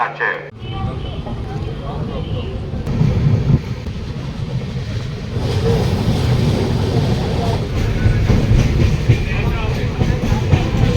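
The Rupashi Bangla Express pulls out of Bishnupur Junction with a steady rolling rumble and rattling carriages, a constant onboard drone under people talking nearby.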